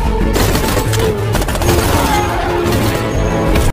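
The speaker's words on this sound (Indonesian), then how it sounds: "Dan baku tembak kembali terjadi." A dense, loud film shootout plays out, with rapid overlapping gunfire bursts and crashing impacts in a continuous barrage that cuts off abruptly at the end.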